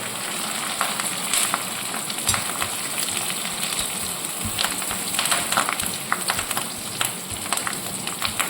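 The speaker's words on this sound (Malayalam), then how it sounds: "അപ്പം ഇത്രയും സാധനങ്ങളുടെ നമുക്കൊന്ന് വറുത്ത് പോരണം" Coconut pieces, curry leaves and green chillies frying in hot oil, a loud continuous crackling sizzle with scattered pops and spatter throughout, close and without talk.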